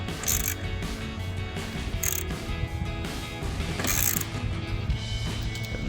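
A ratchet wrench with an 8mm socket tightens a headlight bolt on a 2021-2023 Ford F-150, giving a few short bursts of close, crisp clicking with quieter mechanical handling between them.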